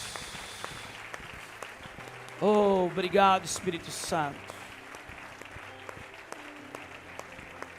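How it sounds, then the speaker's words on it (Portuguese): A church congregation applauds during a worship service, with steady broadband clapping throughout and a voice speaking briefly over it in the middle. "Dê um aplauso ao Senhor Jesus."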